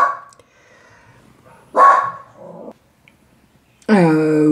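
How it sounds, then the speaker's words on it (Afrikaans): Dogs bark at a house, with a short burst of barking partway through and another sharp bark with a whine near the end, between quiet stretches. "Ai, en nou gaan al die honde natuurlik blaf."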